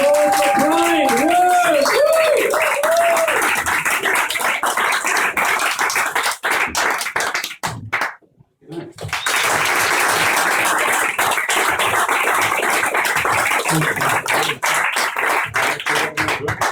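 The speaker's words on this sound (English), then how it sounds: "Can I have a massive round of applause for Brian?" Audience at an Edinburgh comedy show clapping and cheering after the MC calls for applause, a dense, sustained burst that dips briefly mid-way before swelling again, with some whooping and voices mixed in.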